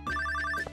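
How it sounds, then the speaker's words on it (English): Phone ringing for an incoming call in the Stardew Valley video game, a short burst of rapid electronic trilling bell pulses, clear and alone. "Oh my gosh, another phone call?"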